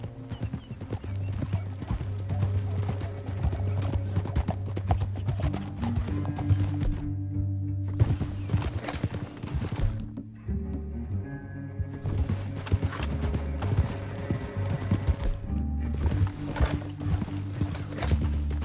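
Rapid clip-clop of galloping hooves in Red Dead Redemption runs throughout alongside a game-style music score, with an occasional horse whinny.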